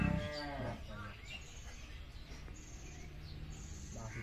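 A cow lets out a loud, close moo at the start, then fades into quiet farm ambience with faint bird chirps.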